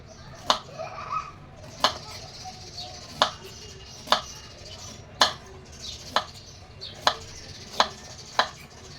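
A knife chops through peeled pumpkin on a board in sharp, evenly spaced strikes, about ten crisp cuts at a steady rhythm, close and clear over a quiet kitchen background.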